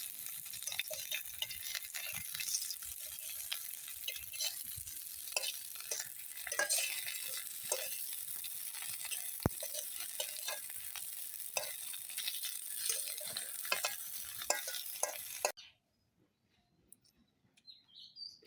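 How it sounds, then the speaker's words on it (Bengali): Fritters of bottle gourd and pumpkin flowers sizzle steadily in a pan outdoors in the morning, with repeated scraping and stirring clicks and birds chirping in the background, until the frying cuts off near the end. "এখন উল্টে পাল্টে ভেজে নিবে, সেজন্য উল্টে দিতেছে"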